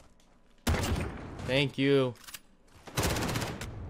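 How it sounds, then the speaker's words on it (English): Bursts of gunfire from the Modern Warfare video game in Gun Game mode, sharp rapid shots breaking out in a few loud clusters, with a player's brief speech between them. "And I'm getting shot from everywhere."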